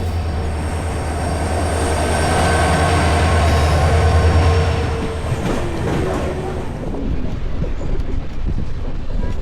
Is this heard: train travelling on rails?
yes